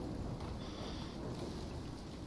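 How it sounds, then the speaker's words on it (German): Steady rain shower in the survival video game Icarus, a soft continuous patter and hiss with no talk over it. "Hier ist ein Regenschauer, nicht ein Sturm."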